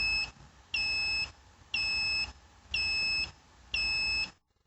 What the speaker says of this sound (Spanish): Al presionar el botón deberemos escuchar los 5 pitidos